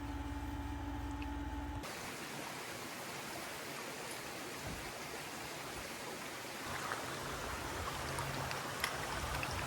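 Creek water flows in a steady, broadband rushing wash close by, continuous and even, with a brief different background hum before it begins.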